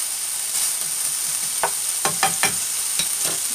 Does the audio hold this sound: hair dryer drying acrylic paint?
no